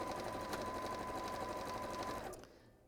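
A sewing machine runs in one steady, close whir for over two seconds before slowing and stopping, alone without talk.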